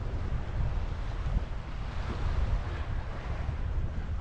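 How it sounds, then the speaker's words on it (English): Small sea waves washing onto the shore at Puerto de Pollensa, Mallorca, a continuous rushing surf with gusts of breeze buffeting the microphone, steady and close with no voices. "It's quite a lot more breezy out here, and you'll hear the waves."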